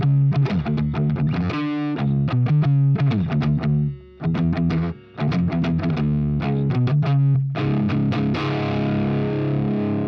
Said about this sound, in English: try using like this Marshall Blues Breaker overdrive here